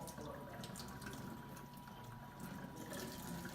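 Tap water running steadily into a sink while hard water is used to rinse soap from skin, a close, continuous splashing hiss with no pauses.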